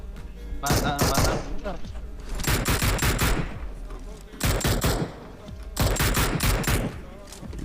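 Rapid bursts of automatic gunfire from a PUBG Mobile match come in four dense volleys separated by short pauses, loud and close, with faint voices between them.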